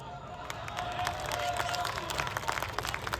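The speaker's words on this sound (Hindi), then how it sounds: "तालियां मुझे अब चाहिएगी" Audience applause and some cheering at a Holi poetry gathering (kavi sammelan), a dense crowd clapping close and loud throughout with sharp individual claps standing out.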